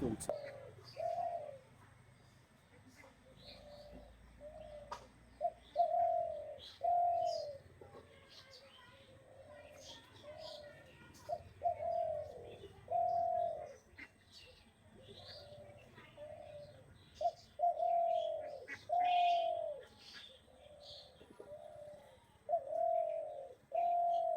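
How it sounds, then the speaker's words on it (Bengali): A spotted dove coos in repeated short phrases with a steady rhythm, fairly close, over faint background noise and occasional chirps. "গাছে দেওয়ার পর ঘুঘু পাখিটা মোটামুটি ভালোই ডাকলো"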